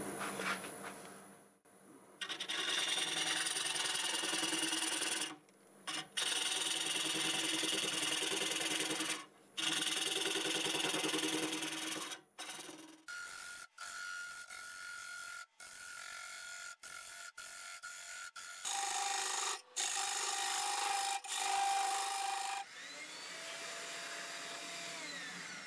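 Hackberry wood spinning on a lathe at about 650 RPM under a mid-sized carbide tool, a loud continuous scraping hiss broken by short pauses and shifts in pitch, with no talking.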